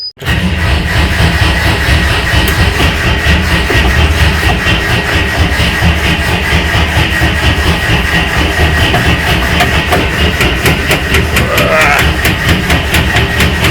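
A UAZ 469 engine, just primed with its fuel pump, runs loud and steady with a rough, pulsing rumble that carries on unbroken throughout.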